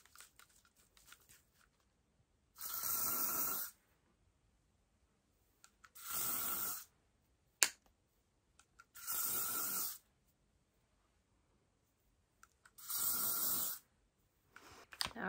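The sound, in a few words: hairspray being sprayed on a hair topper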